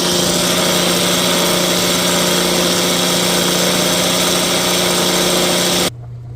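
A small handheld mixer attachment whips heavy cream toward butter, giving a steady, loud motor whine with a constant low hum that runs unbroken for about six seconds before cutting off abruptly near the end.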